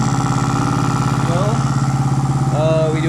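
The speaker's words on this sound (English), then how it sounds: "This is the heat up cycle, so the RPMs are a little loud, a little high" A Honda Monkey motorcycle engine idles at raised RPM during its warm-up cycle after an oil cooler install, a steady close putter with a faint whine and brief pitch wobbles.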